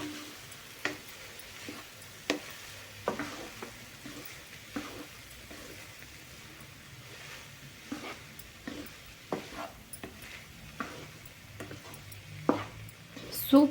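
Coriander rice being stirred in a pan over a low flame, with soft scraping and light ticking of the spoon and faint sizzling, a few sharper clinks scattered through, close and quiet with no talk.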